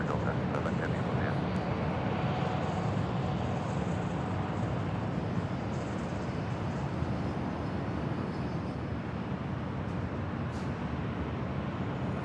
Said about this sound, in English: This is Delta Airlines Flight 7 Heavy departing to Tokyo Haneda on the Airbus A330neo